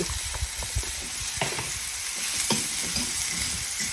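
Small onions browning in a hot pan for a stew, a dense continuous sizzle with scraping stirs, near and fairly loud, with no voices over it.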